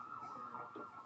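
Ambulance sirens from the video game Trauma Team wail in a brief, steady blare at low level, a continuous rising-and-falling tone with no talking.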